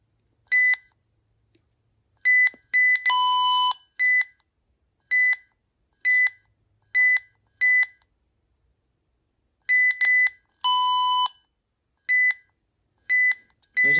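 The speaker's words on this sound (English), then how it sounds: "This thing's beeps are kind of loud." A beige 2004 RadioShack 12-259 weather radio gives a series of loud, sharp electronic beeps, short single chirps and a few longer tones, spaced irregularly with silence between them and no talking.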